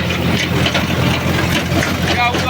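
A Mahindra 4x4 tractor runs a rotavator in a standing wheat field, its engine giving a steady, loud, continuous low drone with harsh broadband noise throughout, close by.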